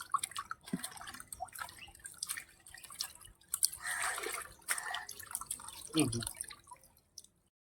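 Water splashing and dripping as a fish head is washed by hand, irregular trickles and splashes close by, fairly quiet.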